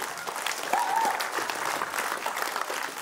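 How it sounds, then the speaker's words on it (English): An audience applauds a performing group, AHmoa, at a Tongan community event in Aotearoa, with a steady wash of clapping that swells briefly and holds at a fairly loud level throughout, with a faint voice rising once early on. "Can we give them another round of applause?"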